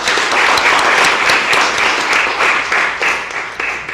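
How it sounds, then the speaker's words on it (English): A round of applause at a county freeholders' meeting honouring a high school state fencing champion; a room of people claps steadily and loudly for a few seconds, with no talking. "And that certainly deserves a round of applause."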